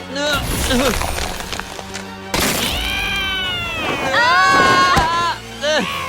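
A cartoon cat meows in several drawn-out, wavering cries, loud and close, with a thump partway through and other voices around it.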